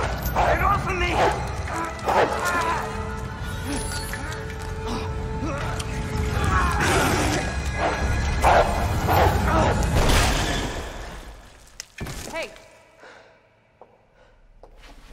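Dogs in the horror game Resident Evil 2 Remake bark and snarl in short, loud bursts amid gasps, thuds and busy game noise, then the sound drops away near the end.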